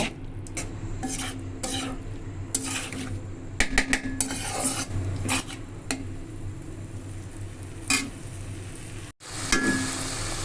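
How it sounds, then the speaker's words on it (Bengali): Spice paste with salt being stir-fried in a pan, a utensil repeatedly scraping and clattering against the metal over a soft, low sizzle, with a brief dropout near the end before the frying resumes. "মশলাটা একটু কষিয়ে নিব"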